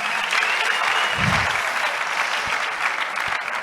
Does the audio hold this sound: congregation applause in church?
yes